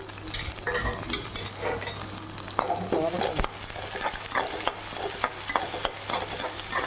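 Onion and curry leaves sauté in groundnut oil in a kadai, giving a steady crackling sizzle with intermittent scraping stir strokes, close and alone.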